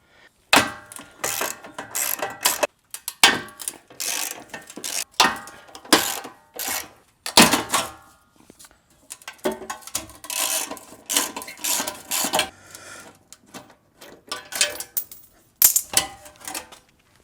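Ratchet wrench removing 12mm bolts from the rear crash bar of a Mitsubishi Evo 9, a close, dry ticking and clicking in repeated bursts with short pauses between, no talking.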